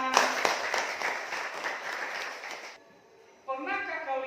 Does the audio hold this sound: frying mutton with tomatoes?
no